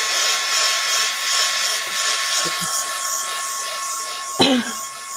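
A hair dryer blasts air over freshly made cookie-cutter clay decorations, a loud, steady close whoosh lasting throughout, with a couple of soft knocks and a brief thump near the end.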